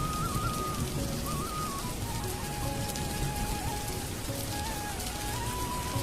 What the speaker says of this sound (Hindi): रात भर तेज बारिश होती है